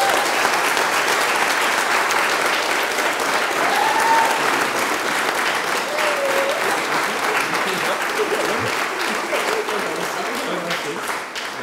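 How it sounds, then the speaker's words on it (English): Wedding guests burst into loud, sustained applause and cheering for the newly announced husband and wife, a dense crowd clapping close by that fades slightly toward the end. "you may cheer"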